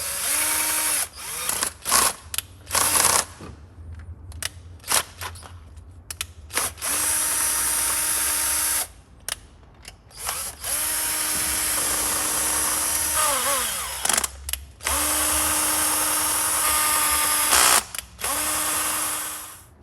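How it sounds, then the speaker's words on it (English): An old head bolt being run into the threads of a Chevrolet Cruze cylinder head with a power driver, in repeated short whirring bursts separated by pauses, loud and close, with no talking. "I'm going to run it down into each of these threads here just to make sure that there's no dirt"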